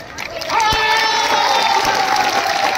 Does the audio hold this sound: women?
yes